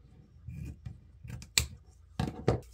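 A few crisp snips of scissors cutting ribbon for a door swag wreath, close and quiet, with soft handling rustles between the cuts.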